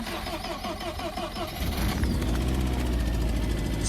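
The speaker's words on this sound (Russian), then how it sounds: "Холодный запуск Акраповичина." A Lada Priora fitted with an Akrapovic exhaust cranks in the cold with a rhythmic starter chatter, then fires up and settles into a loud, deep, rumbling idle close by.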